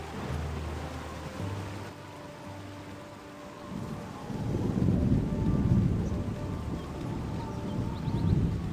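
A thunderstorm with rain in the video game Baldur's Gate: a low rumble of thunder swells and rolls beneath a steady wash of falling rain, growing heavier midway through.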